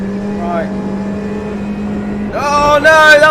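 Race cars in the Automobilista 2 racing game, including a G40 GT5 car, drone with a steady engine tone, then several cars rise in pitch together and grow louder near the end.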